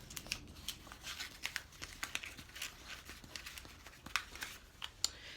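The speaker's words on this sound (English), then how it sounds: "I want to roll this piece of paper into a tube" Quiet, close crinkling and soft rustles of a sheet of paper being rolled into a tube, scattered small crisp crackles and brushing sounds with no talking.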